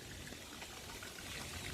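A small stream of sewage water flows out of a yard toward a gully among tropical trees, a dense, steady rushing wash close by with no break or voices.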